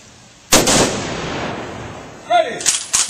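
A rifle volley fired as part of military funeral honors: one loud sharp report with a lingering echo, then a shouted command and a second burst of near shots right after.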